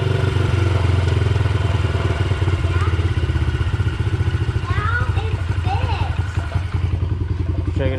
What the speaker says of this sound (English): Give it a little bit of fuel. See how long it takes to come back down to idle.